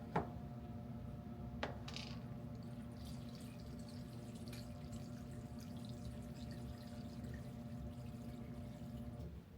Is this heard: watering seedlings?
yes